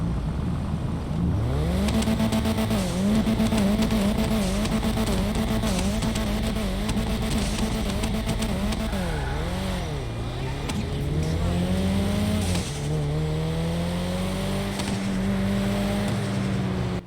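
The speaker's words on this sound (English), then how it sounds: "it'll sound amazing, which is why it's also the #1 sounding turbocharged car in the game" A stock turbocharged Elegy Retro Custom engine in GTA 5 revs repeatedly, pitch climbing and dropping through rapid throttle blips, then holding a steady drone; loud and close throughout.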